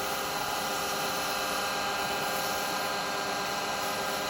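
Steady, loud, continuous whirring hiss of a wood lathe as a carbide chisel cuts into resin and wood while turning Christmas bell decorations, unbroken throughout with no pauses.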